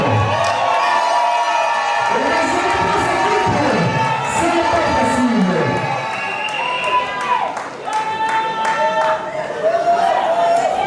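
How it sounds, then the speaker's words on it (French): Wedding guests cheer, shout and clap for the couple at a French wedding celebration, a loud, continuous crowd roar with whoops and children's voices, while a person talks over it. "Est-ce qu'on peut applaudir pour ce couple?"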